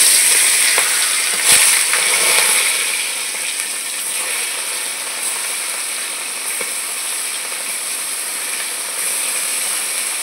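Fish sizzles steadily in hot oil in a home kitchen, a loud continuous crackling hiss with a brief spatter early on and a slight drop in intensity partway through.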